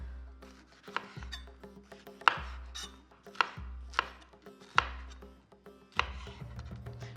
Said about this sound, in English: Capsicum to start. We're going to slice this